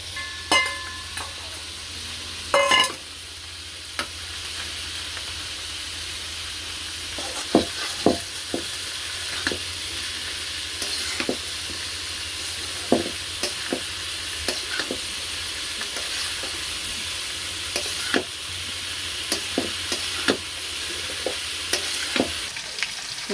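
Potatoes frying in a pan with a steady hiss of sizzling oil throughout, broken by frequent sharp scrapes and clicks as a utensil stirs them.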